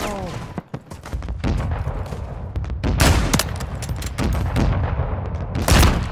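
Modern Warfare 3 Invasion gunfire: loud, sharp bursts of automatic shots crack repeatedly over a chaotic battle mix, some very close and punchy, with voices speaking in between.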